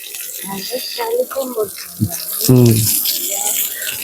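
Water splashes and pours in brief bursts outdoors during palm fruit planting work, with a stronger gush near the end, mixed with nearby voices talking.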